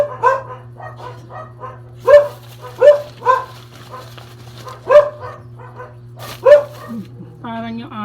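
A small dog gives a run of short, high yipping barks in bursts, fairly close, over a constant low electrical hum, with a brief whine at the end.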